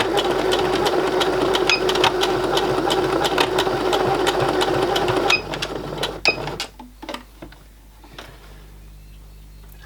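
A sewing machine stitches piping onto a vintage Barbie doll bodice, running fast and steady for about five seconds, then stopping, followed by a few scattered mechanical clicks in near silence.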